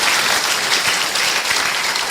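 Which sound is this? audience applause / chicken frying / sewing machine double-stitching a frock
audience applause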